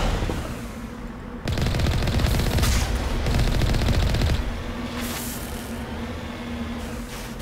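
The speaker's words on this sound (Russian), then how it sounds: "Ну стреляй, что ли, пушка?" Rapid bursts of loud automatic cannon fire from a vehicle in the video game Mass Effect Legendary Edition rattle in quick succession, pausing between volleys, with the steady hum of the vehicle underneath.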